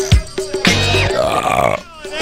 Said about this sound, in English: I can only burp once a month.